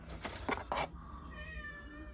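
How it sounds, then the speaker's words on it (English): A cat cries below the room with three quick, plaintive meows in a row, fairly close but not loud, followed by quieter background hum. "And we got a crying cat below me here."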